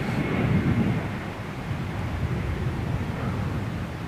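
WestJet Boeing 767 jet at London Gatwick airport, a steady broad rumbling roar of engine noise that swells slightly early on then holds level, with wind buffeting, no voices.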